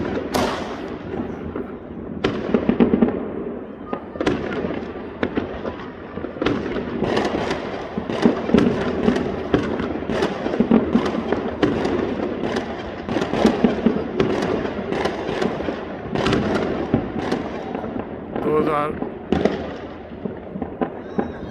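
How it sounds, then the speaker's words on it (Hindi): New Year's midnight fireworks crackle and bang continuously from the distance, a dense stream of pops and booms echoing over a faint background of voices. "हल्की फुल्की जो है आतिशबाजी शुरू हो गई है"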